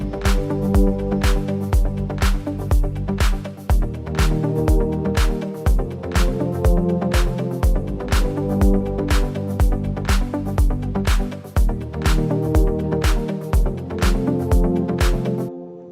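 An electronic track with a chord progression using chromatic chords, playing as a steady pulsing groove with regular beats and sustained harmonic layers, loud and continuous.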